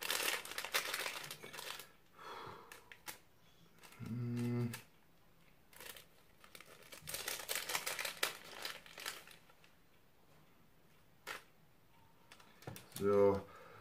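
A plastic bag of aloe vera seeds crinkles in bursts of rustling handling, interrupted by stretches of a person talking and some tapping and clicking.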